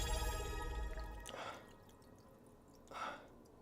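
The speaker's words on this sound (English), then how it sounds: "So now we pour the water in precariously" Water is poured from a bottle into a water filter container. Two short splashing pours come faintly from close by, separated by a quiet pause.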